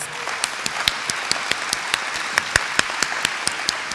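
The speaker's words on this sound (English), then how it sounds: "let's give them a round of applause" An audience at a State of the Schools event applauds students as they stand, a steady wash of clapping with individual sharp claps standing out near the front, moderately loud throughout.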